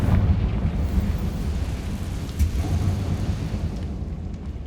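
Confringo blasting spell from Hogwarts Legacy erupting in a sustained, loud rumbling roar with heavy low-end boom, steady and dense throughout without distinct separate hits.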